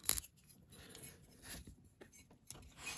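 Small snips or a hobby blade cutting through the plastic front grille of a Corgi Rover 3500 model car, giving a few short, close crunchy clicks and snaps spread over a few seconds.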